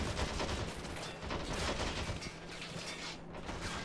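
Dense battlefield gunfire from the Men of War Planetside 2 mod, a continuous wash of shots and bursts during a bridge assault with no one talking.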